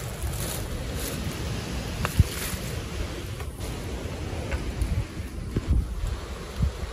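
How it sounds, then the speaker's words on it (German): A continuous whooshing wind blows through a forest in a video game, a dense, steady rush with a few faint clicks and thumps, no voices. "Aber das ist nur der Wind."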